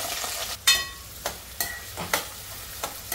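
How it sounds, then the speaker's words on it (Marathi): Cumin and onion frying in hot oil for chicken biryani, a steady close sizzle broken by repeated stirring scrapes in an uneven rhythm, with no talking. "तर जिरा तेलामध्ये ऍड केल्यावर लगेच कांदा वगैरे टाकून घेते"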